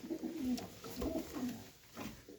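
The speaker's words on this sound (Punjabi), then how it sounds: "ਇਹ ਵੀ ਪੱਟਿਆ ਹੋਇਆ ਕਬੂਤਰ ਹੈਗਾ" Soft, low pigeon coos repeat in a steady rolling rhythm close by, with no talking.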